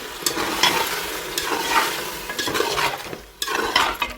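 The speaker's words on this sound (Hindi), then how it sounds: "तो देखें अब ये दही डालने के बाद मैं इसको और थोड़ा सा हम इसको भूनेंगे।" Chicken curry with yogurt being stirred and fried in a pan, a continuous close sizzle with repeated scraping strokes and light clinks of the utensil against the metal, with a brief pause near the end.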